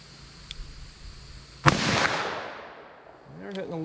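A single sharp handgun shot, a .357 Sig or .357 Magnum fired at an outdoor ballistic test, cracks loudly mid-clip and rings out into a fading echo, with faint background sounds before and a brief voice near the end.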